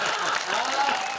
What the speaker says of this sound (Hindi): तालियां कमजोर है भाई साहब।